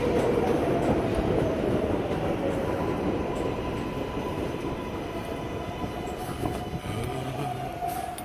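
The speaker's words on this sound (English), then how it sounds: "This is a Manhattan-bound 7 local train." A Manhattan-bound 7 local subway train runs loud and close, with a continuous rumble and rattle of the cars and a brief wheel squeal near the end; no talking.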